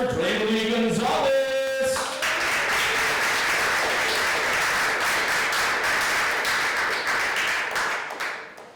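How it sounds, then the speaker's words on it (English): An audience applauds at a high school poetry awards ceremony in New York City, with a brief shout and cheer at the start, then steady, dense clapping that fades out toward the end. "let's give a warm round of applause for Draimely Gonzalez."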